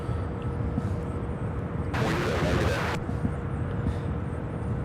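MD-11 cargo jet at Louisville International Airport, a continuous loud engine roar with a brief surge of broadband rush in the middle, heard from nearby.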